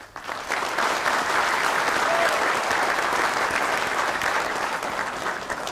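A seated audience applauds panellists at the end of a morning Q&A session at the ADFA Open Day, steady clapping that fills the room for several seconds with no talk.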